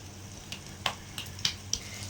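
Beaten eggs cooking omelette-style in a frying pan, a steady low sizzle with a few brief crackles and taps over about two seconds, close and fairly quiet, no talking.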